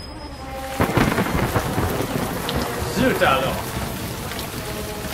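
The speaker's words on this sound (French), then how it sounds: "Mais il pleut quelquefois." Steady rain falls with rolling thunder rumbling through it, and someone speaks French briefly over the storm.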